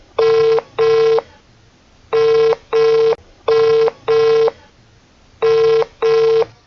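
An electronic telephone ring sounds unanswered in paired bursts, four double rings spaced evenly, close and clear, with no one talking.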